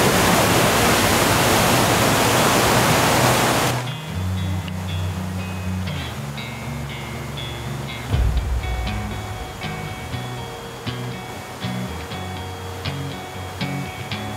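Waterfall in the Meratus mountains, a broad steady roar of falling water that cuts off abruptly after a few seconds, leaving quieter background sound with faint tonal noises and no speech.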